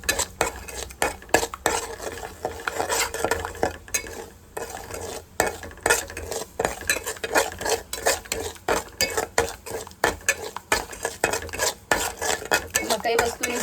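Prasad for the Jivantika Maa vrat being stirred slowly in ghee in a pot, producing continuous rhythmic scraping and metal clinks over a soft frying sizzle, close and steady, with nobody talking.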